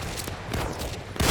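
Black-powder-era rifle fire in the game Easy Red 2 during a Gettysburg campaign battle: faint scattered gunshots echo in the distance, then a sharper, louder rifle shot cracks near the end.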